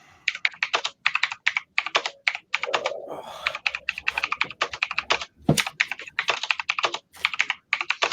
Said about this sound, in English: who's typing so fast?